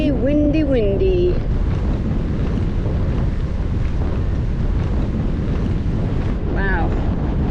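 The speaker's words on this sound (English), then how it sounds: "Wow, it is just blowing." Strong wind roars steadily into the microphone while cycling along the Loire in France, a loud continuous buffeting rumble, with brief snatches of voices rising over it near the start and end.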